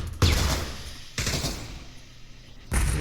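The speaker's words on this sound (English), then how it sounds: "Some gunfire in B, no connections there" Gunfire from a VR shooter match during competitive play, heard as three separate loud bursts of shots with quieter spells between them, with no talking.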